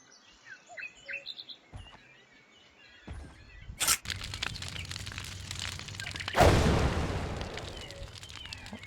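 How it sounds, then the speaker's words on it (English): An explosion effect in an Unreal Engine 4 scene with foliage: bird chirps give way to a sudden loud boom, then a second heavier blast follows, with a rumbling tail that lingers afterward. "it expanded the explosion, but it didn't look very nice"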